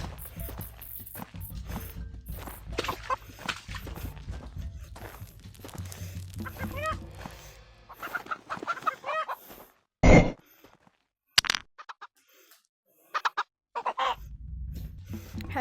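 A dinosaur egg hatches in a Gorilla Tag VR game, with clucking, bird-like game effects and footstep sounds, then a sharp loud burst near the end followed by a few short chirps.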